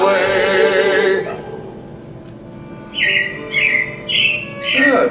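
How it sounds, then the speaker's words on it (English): Animatronic robins chirp in the Carousel of Progress attraction, sounding as four short rising whistled calls in a row after a loud tone-rich passage fades. "it looks like the Robins are getting ready to celebrate Valentine's Day today"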